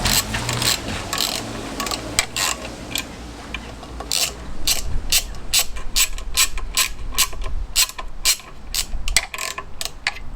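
Ratchet wrench clicking steadily as it turns flywheel bolts on a classic Fiat 500 during a clutch replacement, close and loud, with bursts of rapid pawl ticks and brief pauses between strokes, no talking.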